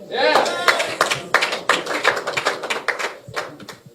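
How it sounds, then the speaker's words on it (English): A group applauds a presidential candidate with quick, uneven claps and a voice rising over them near the start. "So another round of applause for our presidential candidate."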